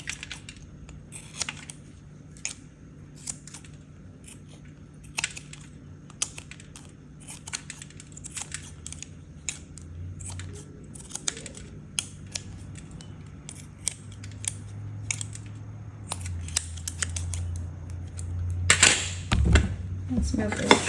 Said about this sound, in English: We're just gonna cut off the excess points.